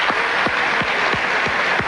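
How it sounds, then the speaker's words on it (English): A studio audience at a 2004 late-night talk show taping applauds in a short, steady burst of many hands clapping, with a few sharp whoops over the top. "why does that get applause?"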